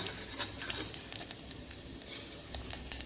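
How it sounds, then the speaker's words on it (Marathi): Cumin and mustard seeds sizzle in hot ghee for a kadhi tempering, a soft, close crackling hiss with scattered small pops over about three seconds, fairly quiet and without talk. "फोडणीला मी कढीचं टाकले तूप तुपामध्ये फोडणी घातली कडीला"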